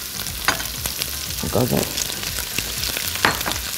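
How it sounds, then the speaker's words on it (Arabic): Mixed vegetables, carrots among them, frying with bacon in a pan, a steady sizzle broken by the scrapes and clacks of stirring, with a brief voice in the background. "فهبتدي انزل كل انواع الخضار تتحمر مع البيكن، وهتاخد طبعا من طعم التحمير"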